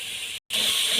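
Grated carrots roast in hot ghee for gajar ka halwa, giving a steady, loud, bright sizzle that cuts out for a split second and then resumes just as strongly.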